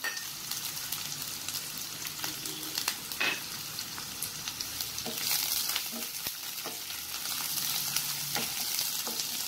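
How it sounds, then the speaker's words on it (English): Chilies frying over a high flame in a pan for Chinese egg bhurji, a steady close sizzle throughout with occasional crackles and stirring scrapes, no talking. "Time to add your chilies."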